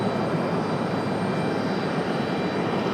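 A Delta heavy jet airliner diverted from London Heathrow arrives at Raleigh-Durham airport, heard as a steady, even engine roar that neither rises nor fades.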